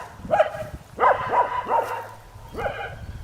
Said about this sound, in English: she's going to keep barking